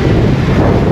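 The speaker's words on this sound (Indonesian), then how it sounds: "Ini yang bikin dingin tuh sebenarnya anginnya." Strong cold wind buffets the microphone outdoors at about five degrees Celsius, a continuous loud low rumble with no talking.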